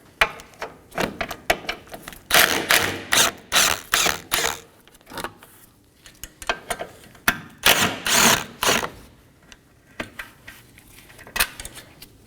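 Ratchet clicking while backing out 10mm mounting bolts on the washer fluid reservoir of a 2020s Toyota Corolla, rapid bursts of close, sharp metallic ticks in repeated runs separated by short pauses.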